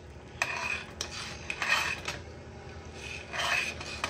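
A utensil stirs a Filipino laswa vegetable dish in a pot, making a series of rough scraping strokes against the metal, nearby and fairly loud, with short quiet gaps between them and no talking.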